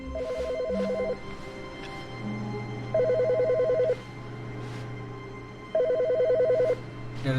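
A telephone rings in the video game The Stanley Parable: Ultra Deluxe, sounding as three loud, evenly spaced bursts of trilling bell tones over a steady low background hum.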